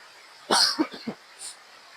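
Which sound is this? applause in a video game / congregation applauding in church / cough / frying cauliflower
cough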